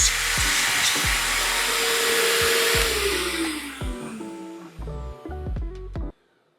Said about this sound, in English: A vacuum that sprays water is loud.